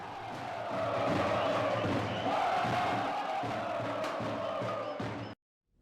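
Rubro-negra supporters of Varginha Esporte Clube roar and cheer in a football stadium, a dense, steady crowd din that holds loud for about five seconds before cutting off abruptly.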